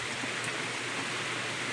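Steady rain falls as an even, hissing wash of noise with no breaks, fairly quiet and without voices.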